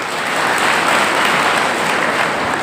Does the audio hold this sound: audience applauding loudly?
yes